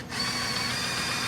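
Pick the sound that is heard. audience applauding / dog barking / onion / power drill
power drill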